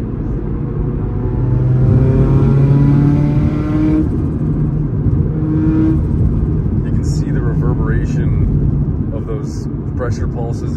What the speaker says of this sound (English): the air mass is now backing up against the throttle plate and making awesome noises